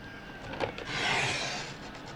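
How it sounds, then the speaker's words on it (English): Paper being scored with a tool for a waterfall recipe card page: one close, dry scraping stroke that swells and fades within a second or two, with no talking. "I'm going to do the scoring in between there."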